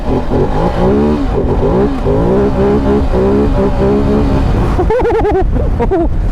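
A 2023 Ducati Desert X motorcycle ridden off-road in rally mode, loud and close, its engine revving up and down through shifting tones before a sharper rising whine near the end.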